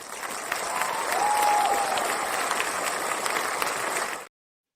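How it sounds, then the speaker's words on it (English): Dense, steady clapping from many hands, like a crowd applauding, holding at an even level before cutting off abruptly. "I got to do some clapping for that founder journey advice right here"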